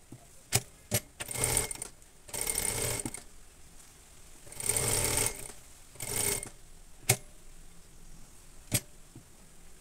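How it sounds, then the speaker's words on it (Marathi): Sewing machine stitching the hem of a katori blouse, running in several short bursts of a few seconds each with brief pauses and scattered clicks between them, close and fairly quiet. "पण इथे मी टिप देऊन घेणार आहे."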